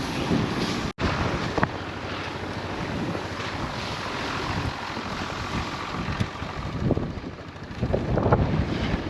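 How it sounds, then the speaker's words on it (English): Strong wind buffets the microphone steadily during a South Dakota storm, a loud roaring rumble with gusty swells and brief dropouts, no voices. "It's real windy."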